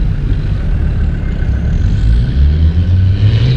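An off-road vehicle on an overlanding trip in Norway creeping onto a rock step covered in mud and grass, its engine a loud, close, continuous low rumble with slight rises in effort and no talking.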